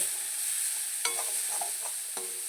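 Pappadam and kondattam chilli being heated in a pan, a quiet steady sizzle with a few short stirring scrapes and clinks standing out against it.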